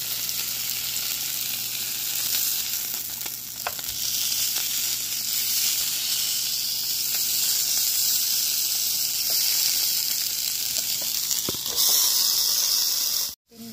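Steak frying in a hot pan, a loud continuous sizzle and hiss with occasional sharper pops, steady until a brief clatter at the very end, no voices.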